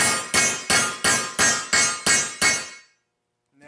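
A hammer strikes a bolt into a cargo rack J bracket eight times in a quick, even rhythm, each sharp metallic clank ringing briefly, followed by a short pause and a faint final tap.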